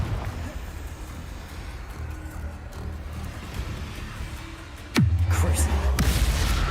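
Explosive burst from the Confringo fire spell in Hogwarts Legacy lands near the end as a sudden loud boom with a sustained rumbling roar after, following a long stretch of steady game ambience and wind-like noise.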